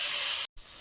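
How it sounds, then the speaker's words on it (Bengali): Water poured into a pan of frying chicken keema masala gives a loud, steady sizzling hiss for about half a second, then cuts off abruptly before a softer hiss resumes. "কষানো হয়ে গেছে, জল দিয়ে দিচ্ছি।"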